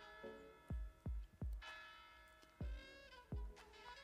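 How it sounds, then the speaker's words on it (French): Church bells strike in a loud, clear series of distinct tolls with long ringing overtones, several strokes spaced unevenly across a few seconds in an otherwise quiet outdoor setting at a housing development. "Décidément, dans chaque vlog maintenant, il va y avoir les cloches."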